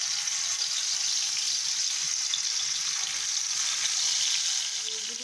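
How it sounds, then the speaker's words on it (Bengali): Fish frying in a pan gives a steady, dense sizzle that holds evenly at close range from start to finish, with a faint clink near the end. "এখানে মাছগুলো এখন ভেজে নিব"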